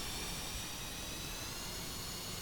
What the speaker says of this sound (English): We want to press this button to tell the starters to fire on the left engine